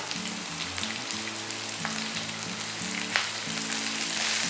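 Onion and capsicum sauté in a pan over medium-high heat for a mushroom side dish, giving a steady, close crackling sizzle with a soft low tonal hum beneath it throughout.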